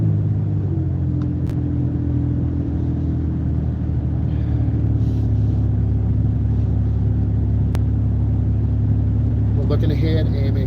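A car accelerates gradually along a road, a steady low rumble of engine and tyres that builds slightly, with no speech during it.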